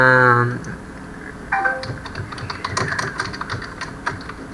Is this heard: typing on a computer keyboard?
yes